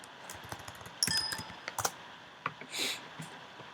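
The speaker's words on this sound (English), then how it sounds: "I'm going to type in hatch" A short command is typed on a computer keyboard, a quick run of light, close key clicks ending in a brief burst, with no talk over it.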